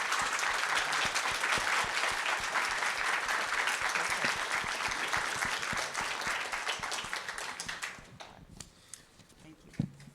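An audience at an arbitration conference applauds, a dense burst of clapping that fades out toward the end, leaving near quiet.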